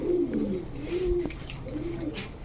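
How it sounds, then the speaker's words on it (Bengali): A red checker racer pigeon, a crested female, gives soft repeated throaty coos close by, with light background noise. "রেড চেকার রেসার ঝুটিওয়ালা একটা মাদি কবুতর"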